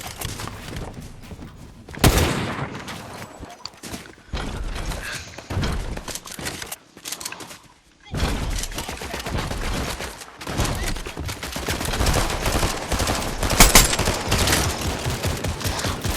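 Video game gunfire with dense, rapid bursts of shots and impacts crackling almost continuously, loud and close, with a brief lull before the firing resumes.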